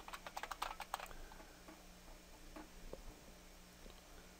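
Quick keyboard typing, a burst of crisp keystrokes in the first second, then a few scattered, quieter taps against a faint background hum.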